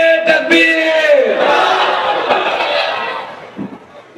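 A large crowd at a religious sermon roars a takbir chant in unison, a loud swelling shout of many voices that rises together and then fades out over a few seconds.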